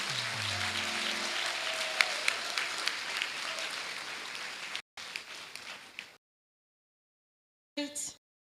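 Graduates at a university congregation receive a broad applause that fills a large hall with steady clapping. It cuts off abruptly, goes silent, and returns as a brief burst near the end.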